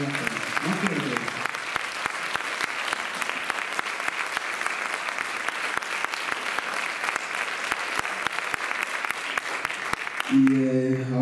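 Concert audience giving long applause for a double bass player at a jazz tribute show, a loud, sustained and even roar of clapping, then a voice begins speaking right at the end.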